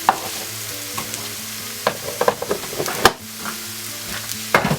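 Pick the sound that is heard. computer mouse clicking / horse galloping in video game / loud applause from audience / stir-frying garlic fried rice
stir-frying garlic fried rice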